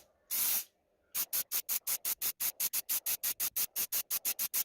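A spray can applies grey primer to a plywood organizer: one longer hissing blast, a pause, then a long run of rapid, evenly spaced short sprays, loud and close.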